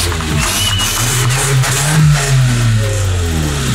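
A car engine revs loud and close, its pitch rising and falling in a sustained throaty roar with no pauses.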